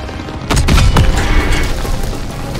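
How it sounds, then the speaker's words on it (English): A German Panzer tank blown up in the Call of Duty WW2 game: a sudden heavy boom with a cluster of sharp bursts, then a lingering rumbling tail and scattered battle noise. "Enemy tank destroyed!"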